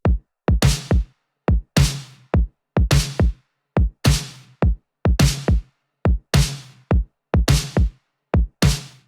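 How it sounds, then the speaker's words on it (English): A programmed kick and snare drum pattern with a slightly 80s flavour, repeating in a steady loop of deep kicks and bright cracking snares, loud and alone with no voices. "So I made this kick and snare pattern"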